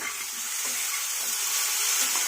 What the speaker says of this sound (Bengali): ঢাকাটা খুলে একবার নেড়ে নেব